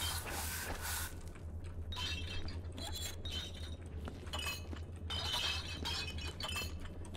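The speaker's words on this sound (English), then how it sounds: "I almost swear we're working with glass bottles because the sound effect is exactly the same." Bright glassy clinks and rattles like glass bottles knocking together, from a cleanup game called Viscera Cleanup Detail, come in quick irregular clusters over a faint steady low hum, fairly quiet overall.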